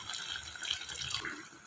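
Tamarind water pours into a cooking pan with a soft, continuous splashing trickle, close and fairly quiet, no voices.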